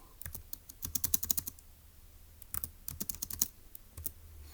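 Quick bursts of typing on a computer keyboard come from close by, two clusters of crisp keystrokes separated by a short pause, clear and fairly quiet with no talking.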